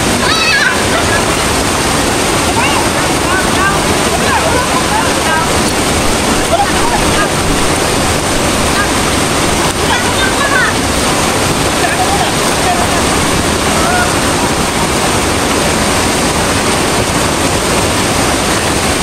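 The Toragsoy Falls waterfall roars in a loud, steady, unbroken rush of water throughout, with voices faintly talking underneath.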